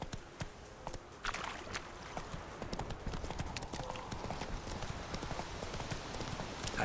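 Hooves of the horse Roach in The Witcher 3 clip-clopping in a steady, close rhythm, with faint ambient background underneath and no talk.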